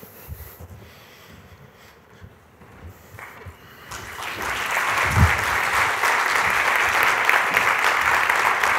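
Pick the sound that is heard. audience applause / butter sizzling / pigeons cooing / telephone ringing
audience applause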